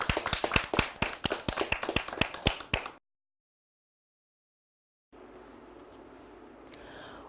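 A group of children at a Tumble Tots session clap in a quick, uneven burst of sharp hand claps for about three seconds, then fall silent before a soft room murmur returns.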